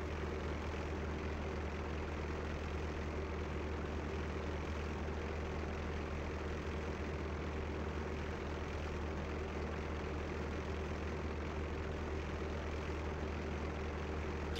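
WWII warplane engines drone steadily throughout a flight combat game, a continuous low, even roar with no breaks or voices.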